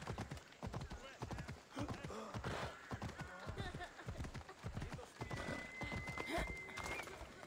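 Horse hooves clip-clopping at a steady galloping rhythm in the Assassin's Creed Odyssey video game, with occasional neighs, heard at fairly low level with someone talking over them.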